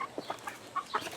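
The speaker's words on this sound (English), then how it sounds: "we gotta let the chickens out" Backyard chickens cluck close by, a handful of short, separate clucks and soft squawks spread unevenly across a second, with no one talking.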